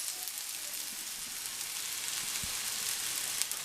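Sliced mushrooms and onions sautéing together in a hot pan, a steady soft sizzle with faint crackles and no talking.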